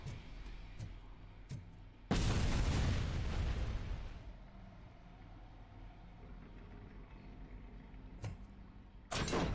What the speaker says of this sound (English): This is my favourite exploding barrel.